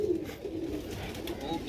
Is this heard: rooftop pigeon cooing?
yes